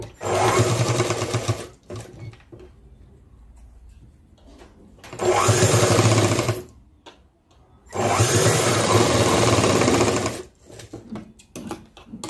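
A sewing machine stitches fabric in three loud, close bursts of steady whirring, separated by quieter pauses with faint handling sounds.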